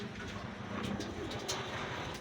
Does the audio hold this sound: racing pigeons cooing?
yes